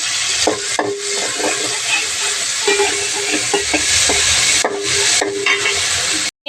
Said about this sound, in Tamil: இப்போ இதை ஆயிலில் போட்டு ஃப்ரை பண்ண போகிறோம்.